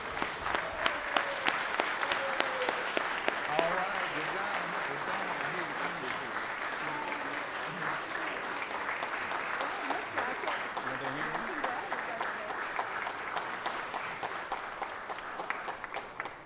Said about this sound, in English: Everybody give Senator a round of applause real quick.